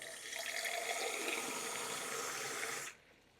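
Water drains from a whole-house filter's drain port into a glass, a steady close splashing stream that runs for about three seconds and then cuts off abruptly, leaving faint room tone.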